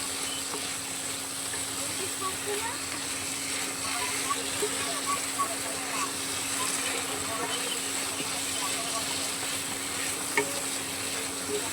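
Fried potatoes and soybean chunks sizzle in hot oil as they are stirred in a pan, a steady close-up crackle with soft scraping under a constant faint hum.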